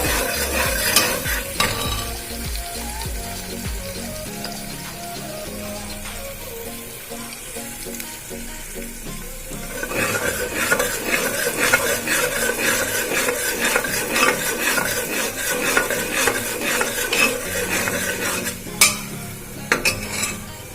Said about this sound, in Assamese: পিঁয়াজ আৰু তেজপাত ভাজি আছোঁ